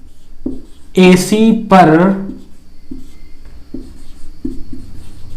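Writing on a board during a geometry triangle construction, short soft scratching strokes in a loose rhythm, close, following a brief spoken phrase.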